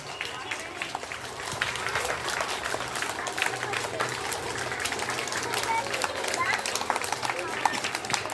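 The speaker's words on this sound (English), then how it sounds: "Claps." A crowd applauds steadily throughout at a school Children's Day celebration, a dense continuous clapping that holds at moderate loudness, with some murmuring voices mixed in.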